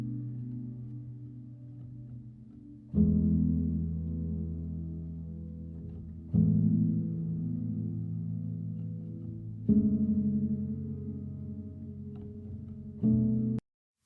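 Piano chords treated with Specular Tempus reverb: four struck chords arrive every few seconds, each swelling warmly and ringing on in a lush, lingering tail before the next, ending abruptly.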